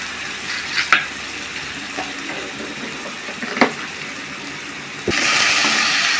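Chopped onion and ginger paste fry in oil in a pan for a home fish curry, giving a steady hiss with a few stirring scrapes, growing into a louder sizzle near the end.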